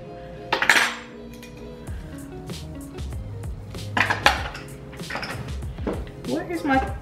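Measuring spoons and cups clink and rattle as they are rummaged out in a home kitchen: several bright metallic knocks and clatters in irregular bursts, close by, with a voice heard at times.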